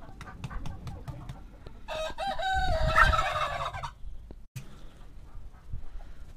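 Hens cluck and squawk close by in a cold farmyard, a busy burst of fowl calls swelling in the middle, with scattered clucks before and after.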